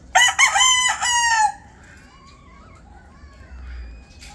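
A backyard rooster crows loudly and close at the start, followed by quieter clucking and faint bird calls from a small flock of chickens.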